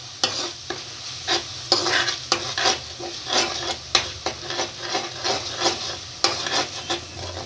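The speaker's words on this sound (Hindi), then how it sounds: "अब इसको अच्छे से मसाले को मिक्स करके भून लेंगे।" Spices and beetroot stir-fried for beetroot and pea sabzi over a medium flame: a steady sizzle under repeated scraping strokes of a spoon in the pan, close and fairly loud, with no talking.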